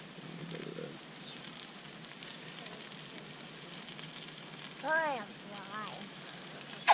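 Brook trout fry in a pan with a faint, steady sizzle, and a voice briefly speaks over the crackle partway through.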